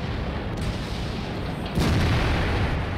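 A heavy artillery boom lands partway through a World of Tanks battle, a sudden loud, rumbling impact that lingers as a low roar over steady background engine noise.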